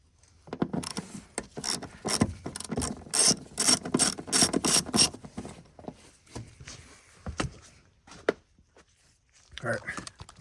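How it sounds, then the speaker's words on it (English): A 10mm bolt in an Acura ZDX loosened with a hand ratchet, giving bursts of close, rapid pawl clicking, then scattered clicks and handling knocks. "bolt right there, 10mm bolt. So let's loosen that"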